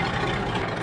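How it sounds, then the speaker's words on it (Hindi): A tractor engine runs steadily at close range, a loud, continuous low rumble with no talk over it for the short stretch. "अरे बाबू बड़ा बढ़िया ट्रैक्टर चला था"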